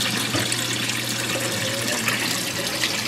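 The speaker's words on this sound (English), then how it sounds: "You want the water flowing in, get it set up." Water streams steadily over a Martin gold prospecting clean-up table, a continuous close rushing wash that holds even for the whole stretch with no talk over it.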